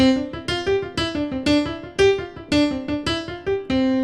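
A rapid run of bright piano notes from a finger exercise in steady, even rhythm, each struck crisply with short decay, played close and fairly loud with no voices.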